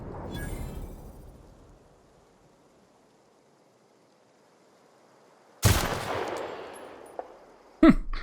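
Weapon fire in The Outer Worlds during a fight with marauders: a sharp broadband blast strikes near the start, then another burst around the middle and a final sharp shot near the end, with quiet stretches between.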